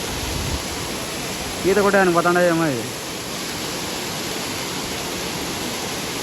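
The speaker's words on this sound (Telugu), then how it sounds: "water falls" A waterfall at Kollabailu near Madanapalle rushes steadily in the background as broadband water noise throughout, while a person speaks briefly over it partway through.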